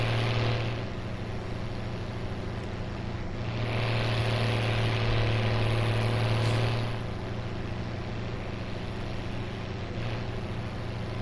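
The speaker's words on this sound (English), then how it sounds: "real fucking straight pipe, that is. Fucking hell, it's deafening." A loud straight-pipe tractor engine in Farming Simulator 17, a steady deafening drone with a low pulsing rumble that holds throughout and swells slightly in the middle, heard alone.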